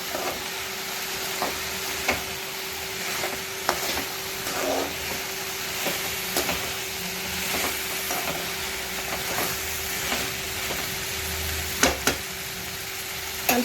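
Ivy gourd with turmeric stirred in a sizzling pan, a continuous hissing fry with repeated clicks and scrapes of a spoon against the metal, close and steady, no voices.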